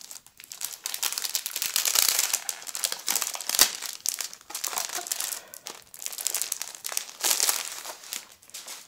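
Shabby chic scrapbooking papers are unwrapped from their plastic pack, giving bursts of close crinkling and rustling with brief tearing, quiet and uneven with short pauses.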